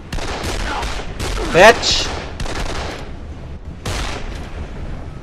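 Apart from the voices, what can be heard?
gunfire in Dead Island video game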